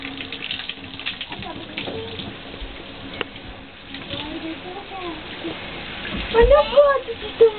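Tap water runs steadily while a ferret is given a bath, a soft continuous splash under close conversation, with a few louder splashes toward the end.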